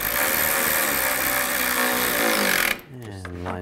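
A power tool runs loudly and steadily for nearly three seconds while tightening headlight bolts on a 2003-10 BMW X3, then stops abruptly, leaving quieter workshop sounds and someone talking.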